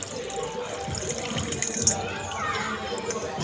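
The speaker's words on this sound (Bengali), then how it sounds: "এবার শসাগুলো থেকে শসার জলটা ফেলে দেবো চিপে এরমভাবে।" Water squeezed by hand out of grated cucumber for raita, soft close trickling and dripping under faint background noise and some voices.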